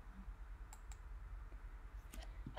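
Faint computer mouse clicks sound while modelling in Fusion 360, a few sharp isolated taps over quiet room noise.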